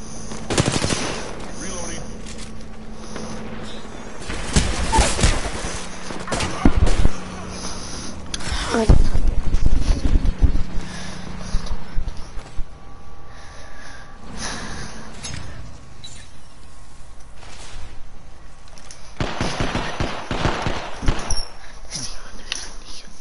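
Gunfire in a video game, rapid machine-gun bursts and single shots coming in uneven clusters, loud and close at times, with radio-style chatter and background effects.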